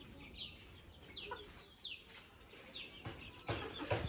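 Desi chickens cluck and give short rising calls in a new coop room, several faint, repeated clucks spread through the moment with light rustling.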